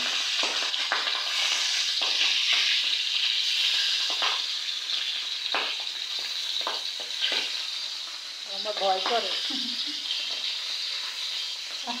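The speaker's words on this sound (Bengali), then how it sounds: "আমি কখনো এই কড়াইতে মাছ ভাজি নাই, আর ফার্স্ট দেখি কেমন হয় ভাজা" Fish fries in hot oil in a wok for a pointed gourd and fish curry, making a loud, steady sizzle with crackling pops, and someone speaks briefly near the end.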